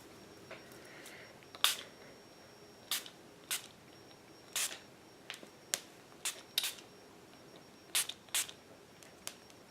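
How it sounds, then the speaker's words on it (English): Catrice Prime and Fine Dewy Glow Fixing Spray pumped from its sprayer: about a dozen short, crisp hissing bursts, evenly spaced and close by, against a quiet room. "I do feel like the sprayer is a little intense on this."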